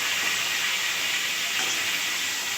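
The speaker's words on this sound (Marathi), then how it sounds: "तर आता हे आपल्या शेंगा स्वच्छ धुतलेल्या टाकायच्या" Washed drumsticks dropped into hot oil with turmeric give a loud, steady sizzling hiss that holds unbroken throughout, with no voices.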